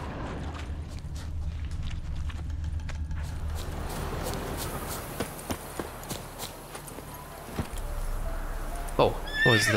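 Roach, the horse in The Witcher 3, snorts and whinnies sharply near the end over hoof clip-clops and ambient game sound, and someone speaks briefly.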